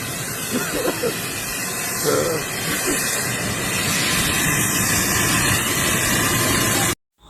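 Steady broadband roar of jet engines inside an airliner cabin in flight to Sierra Leone, a constant loud hiss filling the whole clip with faint voices briefly audible beneath it, cutting off abruptly at the end.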